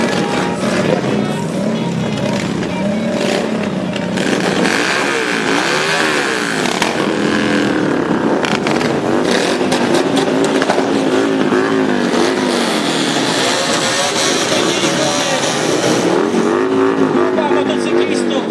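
A group of motorcycles rides in a parade, engines rumbling and revving close by in overlapping passes while a voice talks over the noise.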